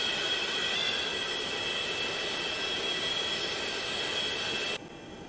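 Loud jet engines of a Boeing 737-200 spooling up in the X-Plane 11 flight simulator, a steady roaring hiss with a bright whine that holds level, then drops sharply near the end, with no talking.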